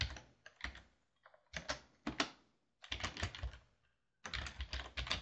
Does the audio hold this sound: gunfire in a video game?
no